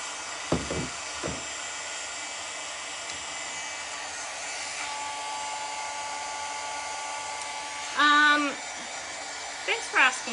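A hair dryer blows on chalk paint, a steady whirring hum that runs throughout, with brief tonal bumps and a few short voice sounds over it.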